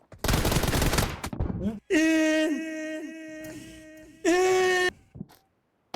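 Automatic gunfire in PUBG Mobile, loud dense bursts opening the clip, then a sustained tonal wail with a second burst near the end, fading to quiet.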